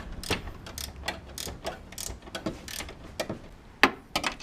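A hand ratchet clicks in short uneven bursts while tightening a front shock bolt on a Toyota Prius, close and fairly quiet, with no talking.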